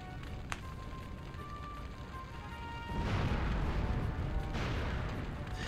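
Armada cannon fire and explosions boom in the video game Skies of Arcadia, a sustained loud rumble of blasts that swells about halfway through, with a sharp crack early on over game music.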